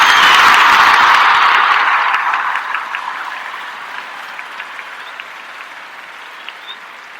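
A played applause sound effect of a crowd clapping, loud at first and then steadily fading away into a few scattered claps.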